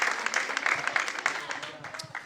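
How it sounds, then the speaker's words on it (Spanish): A church congregation clapping in applause, a moderately quiet, somewhat distant patter of many hands that continues with voices mixed in. "Alguien déle un aplauso de gloria a Dios."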